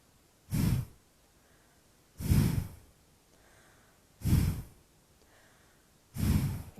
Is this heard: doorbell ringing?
no